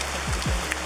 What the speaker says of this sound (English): It's raining now in the Amazon rainforest. But what's crazy is it sounds so intense